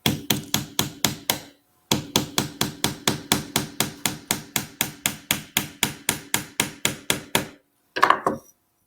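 Hammer blows drive nails into a wooden weaving frame: about thirty sharp, evenly spaced strikes in two steady runs split by a brief pause, then a few last taps, close and loud with no talking.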